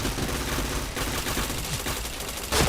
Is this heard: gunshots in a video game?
yes